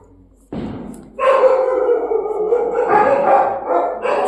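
Three frightened pet dogs bark and howl during firecrackers, loud close yelps and drawn-out howling voices overlapping after a sharp opening bang, continuing without pause.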